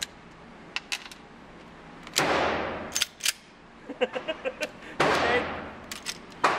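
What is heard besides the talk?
shots from a .45 double action combat pistol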